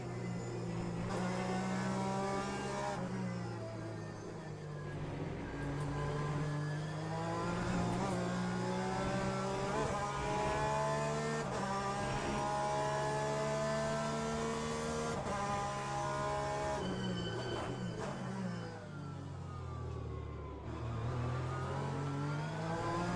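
A Porsche race car engine roars in the Le Mans Ultimate racing game, revving up and down through gear changes in a continuous, close, loud drone with occasional shifts and lifts.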